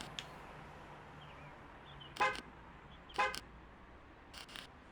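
A car beeps twice in a dreamlike parking-lot video game, short bright electronic chirps about a second apart over a faint steady ambient hiss.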